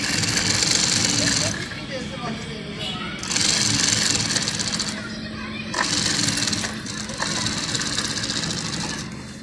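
Sewing machine stitching a strip of cloth placed under buckram, running in bursts of whirring stitches separated by pauses, fairly loud and close, with talk in the background.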